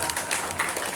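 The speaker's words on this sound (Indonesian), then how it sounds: "Tepuk tangan dong." Audience applause at a parenting talk show, a brief burst of clapping from a crowd, fairly soft and even, lasting about a second.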